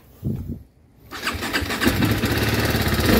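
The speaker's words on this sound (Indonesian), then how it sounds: "kita nyalakan yuk" TVS Apache 310 RR motorcycle with its stock exhaust, heard from near: a quiet click, then the engine cranks and fires, settling into a loud, steady idle that fills the rest of the moment.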